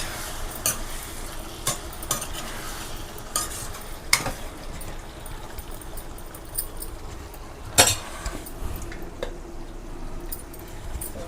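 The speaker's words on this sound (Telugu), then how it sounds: "అలా పైన జల్లేసుకుని కొంచెం కొత్తిమీర వేసేసి ఒకసారి తిప్పేసుకున్నామండి అడుక్కి పైకి" Tomato curry being stirred in a pan after garam masala powder and chopped coriander go in, with a low steady sizzle and scattered scraping clicks of a spoon against the pan.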